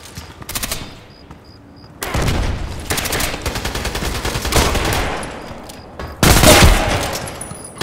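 Rapid bursts of gunfire from the online shooter Contract Wars, loud and close with dense automatic volleys, a short lull near the start and a sharp heavy burst toward the end.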